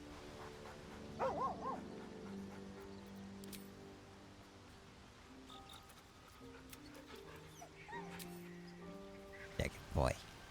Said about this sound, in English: Where's the dog? There's the dog.